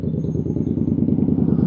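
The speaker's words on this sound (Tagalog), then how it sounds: "tambutso nitong Indian na motor." An Indian motorcycle's exhaust gives a steady, deep, rumbling burble with a fast pulsing beat, loud and close throughout, with no voices.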